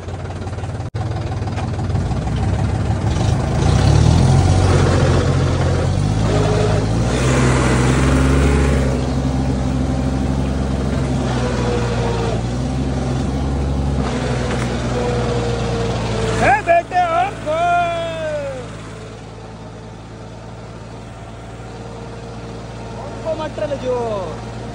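A tractor engine labours in a rain-waterlogged grape vineyard, a steady low rumble that rises and strains, with people talking over it before the engine note fades.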